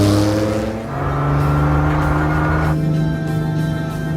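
A loud car engine runs and revs, its pitch sweeping up and down as it accelerates, close and continuous.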